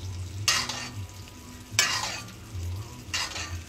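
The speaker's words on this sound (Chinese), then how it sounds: "把它刚才用黄油烤的汁集中在这里，然后往上浇，就是给它一个最后的调味" A steak pan-frying in butter at home while the pan juices are gathered and spooned over it to baste, giving a steady low sizzle with three bright bursts of spattering and scraping as the spoon pours, close and with no talk.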